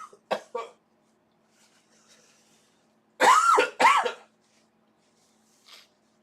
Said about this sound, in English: Sorry for coughing into the mic.